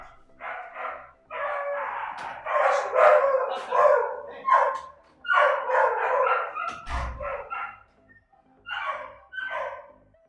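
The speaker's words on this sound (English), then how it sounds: "My dogs just saw a cat and they went absolutely bananas" Several dogs bark frantically at a cat, a close, loud run of sharp overlapping barks and yips in bursts with brief pauses, and one thump near the middle.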